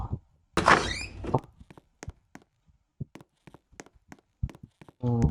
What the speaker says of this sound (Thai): เปิดประตู